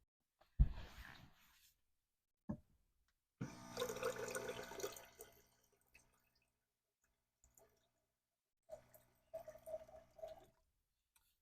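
Water from a DIY minivan water system runs at full pressure in several short splashing bursts, close and moderately loud, separated by quiet pauses with a few faint drips and knocks.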